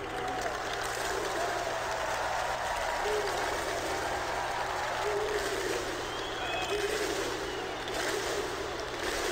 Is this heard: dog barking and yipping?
no